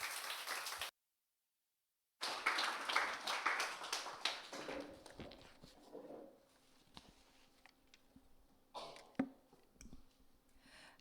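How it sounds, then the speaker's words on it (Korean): A church congregation claps to welcome a visiting professor during a Sunday service, a brisk burst of many hands after a brief silent gap, thinning into scattered claps and small taps. "힘차게 박수 한번 하겠습니다"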